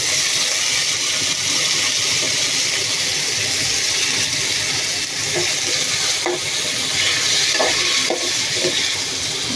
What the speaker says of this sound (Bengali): এই যে টমেটো আমি কুচি করে রেখেছি, সব টমেটো আমি এখন দিয়ে দিব